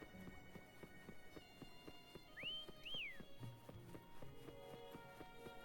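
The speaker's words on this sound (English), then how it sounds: "Why don't you call Foam over? Try whistling" In the video game Wuthering Waves, a character gives two short rising-and-falling whistles over soft background music and rhythmic footstep-like clopping.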